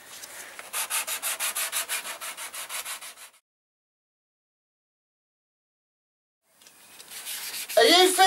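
Rhythmic back-and-forth sanding strokes rub across a plastic panel from a Yamaha TDM850 motorcycle, steady and close for about three seconds, then silence, before scraping resumes with a louder knock at the end.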